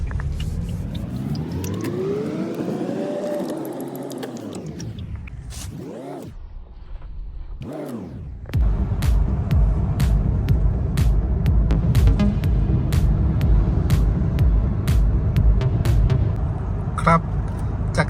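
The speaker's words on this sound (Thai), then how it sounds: "ได้ยินเสียงเครื่องยนต์ดีเซลนิดหน่อยนะครับ" A Mazda BT-50 double-cab pickup with a 1.9 diesel and six-speed manual is driven on an expressway; its engine drones and rises in pitch through the gears, dipping between shifts, then settles into a steady cruising hum.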